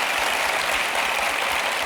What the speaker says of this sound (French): On vous applaudit en tout cas Daphné pour tout le boulot que vous faites toute la semaine.